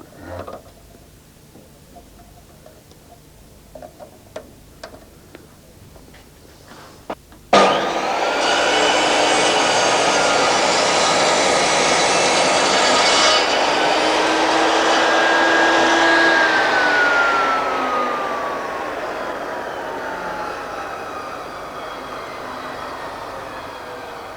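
A Triton Work Centre saw takes a shaving cut in wood: a few light knocks, then the motor starts abruptly and holds a loud, steady whine with a slowly falling tone as the blade cuts.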